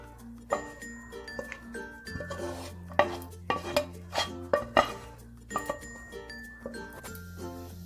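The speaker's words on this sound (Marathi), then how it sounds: "आता आपण हे सर्व ड्रायफ्रूट ह्याच्यामध्ये टाकून घेऊया" Dry fruits are stirred into eggless Christmas plum cake batter in a bowl, with repeated clinks and scrapes of a spoon against the dish, alone and close, with no talking.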